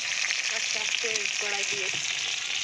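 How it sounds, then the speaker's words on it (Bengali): Tilapia fish fry in hot oil in a home kitchen, giving a steady, close crackling sizzle throughout, with a faint voice briefly audible in the background. "একদিকে মাছ ভাজছে"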